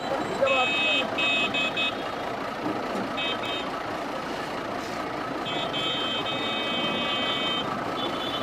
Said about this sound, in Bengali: ওটা কি হর্ন দেখো তো